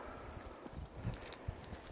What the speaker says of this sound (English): Band of horses along the Nez Perce Trail